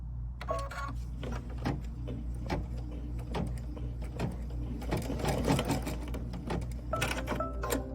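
An embroidery machine stitches a tack-down line on Mylar, a quiet, steady rapid needle clatter with a low motor hum and a few sharper clicks throughout.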